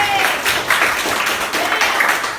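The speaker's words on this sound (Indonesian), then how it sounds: "Tepuk tangan buat Dede." Classroom applause for a young student who has just read a pantun, a short dense burst of clapping close by with voices over it.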